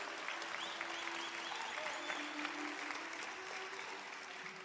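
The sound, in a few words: congregation applauding in church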